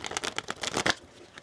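Tarot cards shuffled and drawn by hand: a quick run of crisp riffling flicks and snaps over about a second, close and fairly quiet, then trailing off to near silence.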